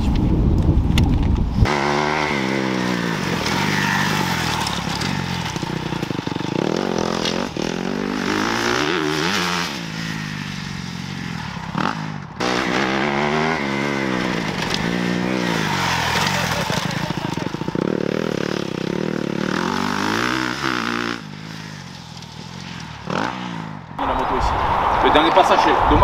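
Motocross motorcycle passing along a dirt track at a riding school, its engine revving and rising and falling in pitch as it goes by, loud and continuous, with coaching talk over the riding.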